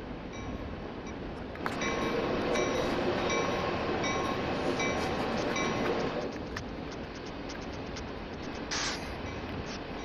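A train in the Train Sim World 2 video game runs along the track with a steady, loud rolling rumble and rattle. It grows slightly heavier partway through, with no talking.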